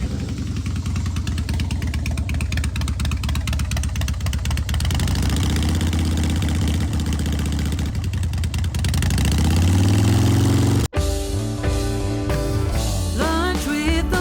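A motorcycle engine runs loudly and steadily up close on a Route 66 ride toward Holbrook, Arizona, its pitch rising as it revs before an abrupt cut to a different scene.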